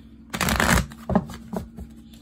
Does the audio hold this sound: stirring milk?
no